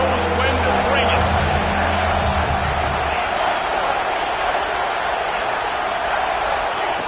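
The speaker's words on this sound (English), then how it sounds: "This crowd knows when to bring it." Football stadium crowd roaring in a steady, dense wash of cheering that stays loud throughout, with a low droning hum fading after the first few seconds and no clear voices standing out.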